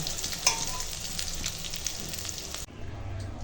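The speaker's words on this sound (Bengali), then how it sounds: "উচ্ছেটা এরকম কড়া করে ভাজলাম" Bitter gourd fries crisp in a pan with a steady, close sizzle and crackle of hot oil, a soft clack near the start, then the frying drops suddenly to a quieter hiss near the end.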